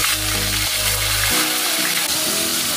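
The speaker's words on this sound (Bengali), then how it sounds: "দুটো পেঁয়াজ ভেজে নিচ্ছি।" Onions fry in hot oil tempered with garam masala and bay leaf, giving a loud, steady sizzle with a low hum in the first half.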